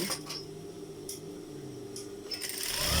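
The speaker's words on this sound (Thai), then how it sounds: "ทำการเย็บเลยค่ะ เย็บประมาณหนึ่งตีนสี" A sewing machine stitches fabric with a steady, quiet mechanical whir, punctuated by a few brief clicks and taps, close by and without talk.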